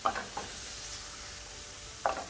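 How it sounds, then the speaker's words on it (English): Eggplant stirred in a hot pan with spices, a spoon scraping at the start and end over a low steady sizzle, close and fairly quiet, no talking. "we're going to put in all of our delicious eggplant. And we're just going to stir this around a little bit"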